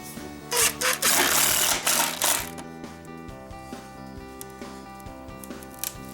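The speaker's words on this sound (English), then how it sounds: "take a small Vicks bit and just make a pilot hole just briefly" A small bit drills a brief pilot hole into an oak drawer front: a steady whining motor with a couple of rough bursts of cutting noise early on, then a quieter hum, close up.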